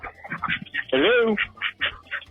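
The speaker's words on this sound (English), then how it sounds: "I hear ducks" Ducks quacking in the background of a Florida phone call, a run of short repeated quacks with one long honking call in the middle, heard over a talking voice on the line.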